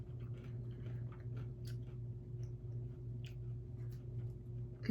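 Crunchy Indian snack, apparently nut-based, chewed close to the mouth with steady crisp bites and crunches over a low constant background hum, no talking.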